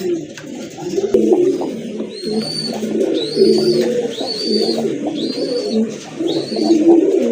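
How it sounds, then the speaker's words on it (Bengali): A pair of Kaldom pigeons coo close by in a steady run of low, rolling phrases, while a higher, repeated bird call rises and falls over them. "দেখেন একজোড়া কালদম কবুতর"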